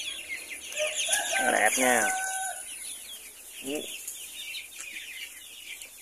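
Free-range backyard chickens on a small Vietnamese farm, giving a loud close rooster-like call followed by a shorter cluck, with faint background noise and a brief bit of speech.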